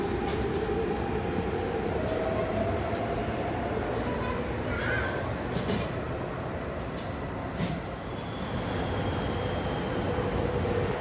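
A metro train rumbles steadily through Tung Chung Station, a broad continuous roar with faint squeals and distant voices underneath.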